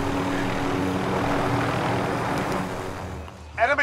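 A helicopter flies in a military shooter video game, giving off a steady, fairly loud rotor and engine drone. The drone fades slightly near the end, where a brief voice cuts in.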